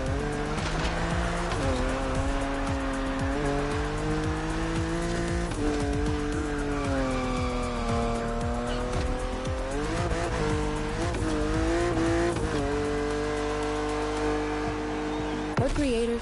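A car drives along an open road in the Motorfest racing game, its engine droning loudly and steadily with rising and falling revs through gear changes and occasional tire squeal, the sound continuous throughout.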